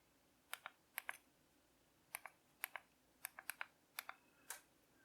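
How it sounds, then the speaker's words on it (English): Keys click on a LYNEC C120 2.4G mini wireless keyboard, a sparse, uneven run of light taps, some in quick pairs, close and clear against quiet. "I am typing in my message here."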